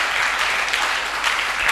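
A church congregation applauds to acclaim the Lord, with dense, sustained clapping from a crowd that holds steady throughout.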